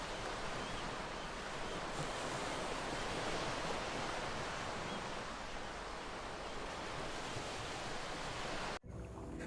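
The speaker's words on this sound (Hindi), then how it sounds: "कुछ इसी तरह का एक सरसराहट वाली आवाज़ आनी चाहिए जब आप उज्जयी प्राणायाम करते हो।" Ujjayi pranayama breathing, a long continuous hissing, ocean-like friction sound, steady and close, alone without talk, cutting off abruptly near the end.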